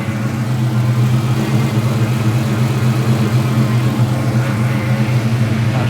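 A reinstalled older engine in an SN95 Ford Mustang idles steadily close by, with a low, even rumble and a faint pulsing throb and no voices.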